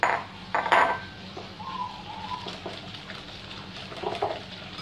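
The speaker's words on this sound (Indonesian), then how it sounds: "Sekarang kita masukin tepung tapiokanya, aduk." Tapioca flour being stirred into an economical two-egg Bika Ambon batter in a bowl, with soft scraping and a few clinking utensil knocks against the bowl, mostly quiet between strokes.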